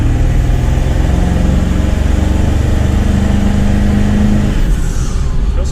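A Ford 7.3 Powerstroke diesel truck engine, just repaired after a no-boost problem, runs steadily up close, giving a loud, continuous low rumble with a faint whine rising near the end.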